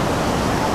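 Small waves wash onto a wide, long sandy beach at Rincon de Guayabitos in Riviera Nayarit, Mexico, a steady, loud rushing surf filling the short moment without a break.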